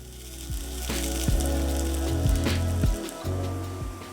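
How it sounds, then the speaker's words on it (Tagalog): Sliced onion sautés in a frying pan, a steady close sizzle with a few soft knocks and scrapes from stirring throughout. "Ngayon naman, magigisa tayo ng uh, sibuyas."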